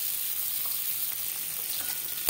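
Boiled eggs frying in oil until reddish for an egg and potato curry, giving a steady, soft sizzle throughout with a brief louder crackle near the end.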